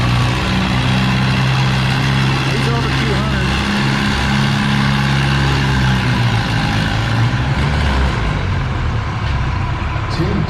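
A 3200 lb ladder-bracket class pulling tractor at a tractor pull runs with a loud, steady, deep engine roar that holds throughout, while a voice talks over it.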